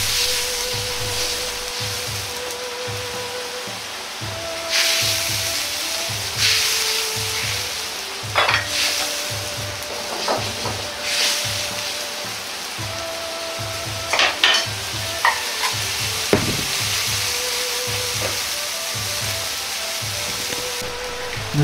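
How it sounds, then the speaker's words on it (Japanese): Water and tofu go into a simmering pan of salt mapo tofu, a steady close sizzle with stirring, scraping and light clatter of utensils against the pan. "水を 180cc 入れ、豆腐を加えます。"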